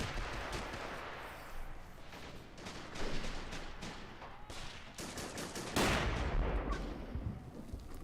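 A 60mm mortar fires in a video game battle amid crackling gunfire, with repeated sharp reports and a louder blast late on, moderately distant.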